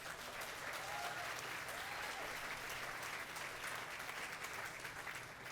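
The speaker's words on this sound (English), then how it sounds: "Clap for that too." Steady audience applause at a hospital groundbreaking ceremony in Mississauga, a dense even wash of clapping held throughout at moderate distance with no pauses.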